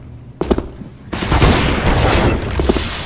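Counter-Strike: Global Offensive gunfire cracks out, a single shot followed by a sustained burst of rapid shooting, loud and close.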